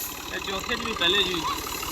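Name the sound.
Fiat 480 tractor engine running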